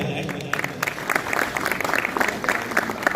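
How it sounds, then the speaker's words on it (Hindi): A crowd at the opening ceremony of a cricket league applauds in scattered bursts of claps. An announcer's voice carries over the clapping throughout. "वो तो तालियां बजाएं"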